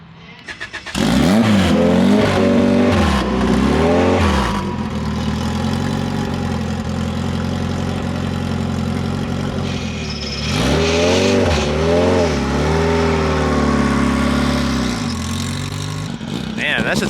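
A fully built hatchback engine running on race gas starts up and revs hard in repeated rising-and-falling bursts, then settles into a loud rough idle before another flurry of sharp revs, close by, with voices over it.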